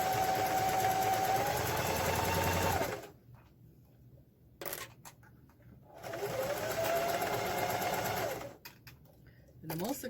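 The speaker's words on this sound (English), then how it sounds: "we're going to sew all the way around" A sewing machine stitches around the edge of a fabric drawstring bag in two long, close bursts of fast whirring, separated by a few seconds of near silence with faint handling.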